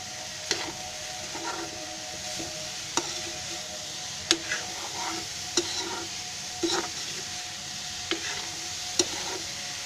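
Jaggery and coconut filling for steamed ukadiche modak stirred in a pan over low gas, a soft continuous sizzle broken by regular sharp scrapes and clinks of the spatula about once a second, close up with no talk.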